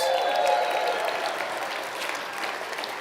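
An audience at a climbing presentation breaks into a big round of applause, dense continuous clapping from a crowd with a few faint whistles or cheers early on, holding steady for the whole stretch.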